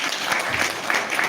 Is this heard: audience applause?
yes